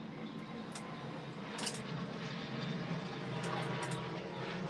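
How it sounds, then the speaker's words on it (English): A fixed-wing airplane overhead makes a faint, broad rumble that swells gradually across the stretch, with a few light clicks over it. "It's a plane again."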